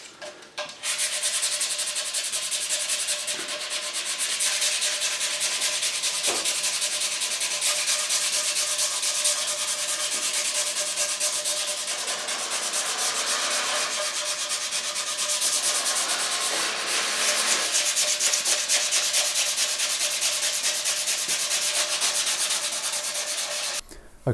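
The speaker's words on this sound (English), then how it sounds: "I'm going to give this a rub down with some 220 sandpaper" A piece of wood for a P Bass build sanded by hand with 220 grit sandpaper, a steady, close, hissing scrape of rapid back-and-forth strokes running continuously for the whole stretch with no talk.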